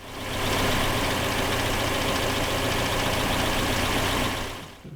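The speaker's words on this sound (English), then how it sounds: "Steam engine." A steam car engine runs continuously with a dense, even chugging roar, loud and close, before cutting off abruptly near the end.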